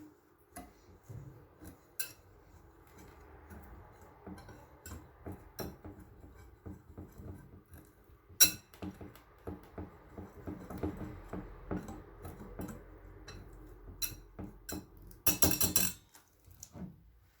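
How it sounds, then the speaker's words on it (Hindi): Flour, sugar and baking powder are mixed in a bowl with a spoon, giving light, quiet clinks and taps in a steady irregular rhythm, close by, plus a brief louder rattle near the end and no talk. "सबसे पहले मैदा लेंगे, इसमें चीनी शामिल करेंगे, बेकिंग पाउडर, इन्हें मिक्स कर लेंगे।"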